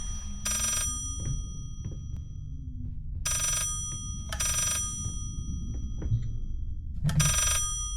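A telephone rings in the Layers of Fear video game, three separate bursts of bright bell ringing spaced a few seconds apart over a low, murky ambient rumble.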